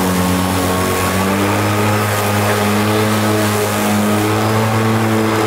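A steady, loud motor whine of a battery lawnmower running continuously, its pitch and power rising slightly as it works through thick, tough grass.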